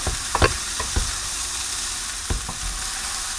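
Fried rice is stirred from the bottom of a hot pan, a continuous loud sizzle broken by several sharp scraping clicks of a spatula, with no talking.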